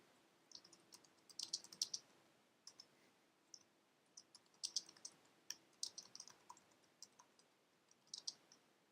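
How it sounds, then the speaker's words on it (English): Keys clatter on a computer keyboard in irregular bursts of quick taps with short pauses between them. The typing is close but fairly quiet, and no voices are heard. "I'm just going to go ahead and type that in."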